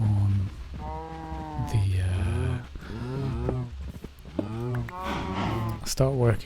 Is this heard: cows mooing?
yes